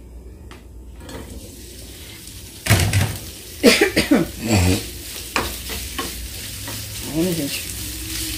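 Meat frying in a pan on a home stove, a soft steady sizzle with bursts of louder stirring and scraping of the pan, and a person speaking briefly near the start.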